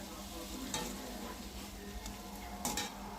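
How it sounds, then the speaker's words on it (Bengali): Boiled potatoes fry and get stirred in a pan, with a continuous close sizzle and occasional louder scrapes and clatters of a utensil against the metal. "আলু দিয়ে কিছুক্ষণ নাড়াচাড়া করতে হবে"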